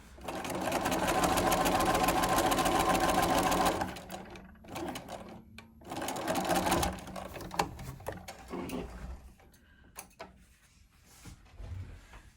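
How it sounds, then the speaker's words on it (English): Sewing machine stitching through quilt fabric in a steady, close whir for about four seconds, then a brief pause and a second shorter run, followed by quieter handling clicks and rustles. "I'm going to take my pin out as I'm sewing so I don't sew over top of it and break needles."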